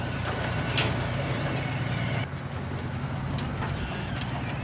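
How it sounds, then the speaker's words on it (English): A livestock truck loaded with a sheep flock on a Western Australian farm rumbles steadily as it drives off, a continuous low engine drone heard fairly close with no talk. "now that our main flock are off on the truck up to Canna"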